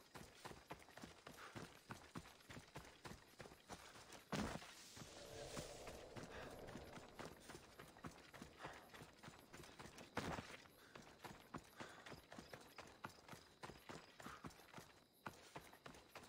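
Horse hooves clip-clopping in Assassin's Creed Odyssey, a steady, quick rhythm of faint, evenly spaced hoofbeats running on and on, with a couple of louder thumps.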